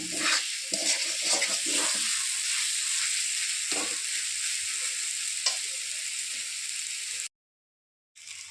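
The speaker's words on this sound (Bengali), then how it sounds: "এর জন্য আমি পেঁয়াজটা বেশি ভাজা ভাজা করলাম" Onions fry in a pan for a fish dish, a steady close sizzle broken by scraping stir strokes, cutting out briefly near the end before resuming.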